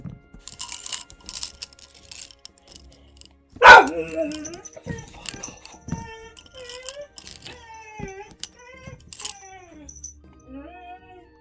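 A dog barks indoors, with one loud bark standing out among scattered yelps and shorter barks, mixed with occasional typing and someone speaking at intervals.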